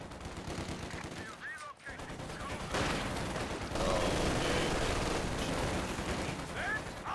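Sustained machine gun fire in Company of Heroes during a 4v4 match on Hill 400, loud continuous bursts and explosions filling the battlefield with a dense, rattling roar.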